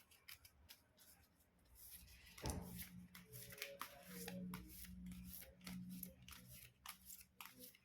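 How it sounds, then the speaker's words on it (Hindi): A deck of tarot cards is shuffled up close in rapid, crisp riffling flicks, with one heavier thump partway through, then the quick shuffling continues to the end. "कार्ड्स हो गए हैं शफल"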